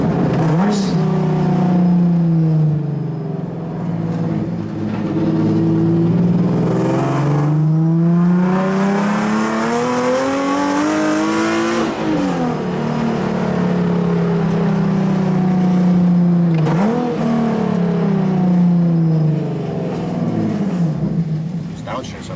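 A loud 2024 pro-am race car engine revs and drops through gears, pitch climbing and falling repeatedly with sharp downshift blips, heard close up from inside the car.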